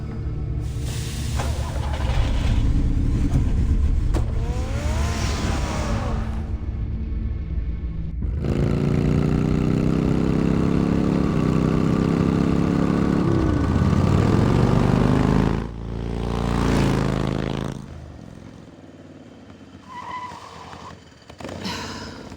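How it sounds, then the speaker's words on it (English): Batman's car engine in the Batman Telltale video game, heard as a loud, sustained roar that surges and rises in pitch, cuts off abruptly, then returns in a shorter burst before easing to a lower rumble, with no talking. "Get the car ready, Alfred."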